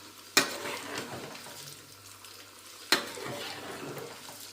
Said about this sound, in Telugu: పచ్చడికి తాలింపు పెడుతున్నాను. అన్ని పప్పులు వేసాను, శనగపప్పు, మినప్పప్పు, ఆవాలు, జీలకర్ర